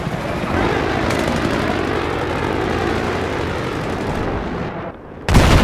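Gunfire in Battlefield 3 rattles on in a dense, continuous barrage over a roaring background, then drops away briefly before another loud burst breaks in at the very end.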